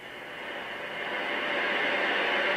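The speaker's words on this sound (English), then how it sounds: "So it's just literally like static white noise" Steady static hiss from a baby sound machine set to white noise, a constant even rush that swells slightly and holds, close and alone.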